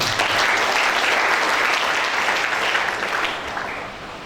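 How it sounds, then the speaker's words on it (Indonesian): Audience applause at a theology college graduation ceremony in Ungaran, a dense, steady wash of clapping from a large crowd that holds loud throughout and tapers slightly at the end. "Mari kita beri aplaus dulu."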